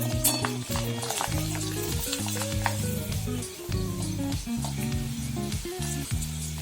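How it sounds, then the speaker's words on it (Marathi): Rice kurdai crisps frying in hot oil, a loud, busy sizzle and crackle with bubbling bursts throughout, alone without any voice. "अजून एक तळून दाखवते।"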